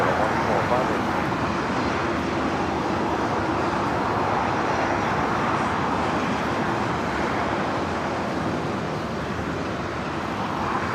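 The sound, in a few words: Boeing 747 arriving from Tokyo Narita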